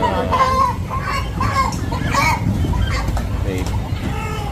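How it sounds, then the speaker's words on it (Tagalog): Native chickens cluck repeatedly close by, with people talking over an outdoor yard background. "native na manok"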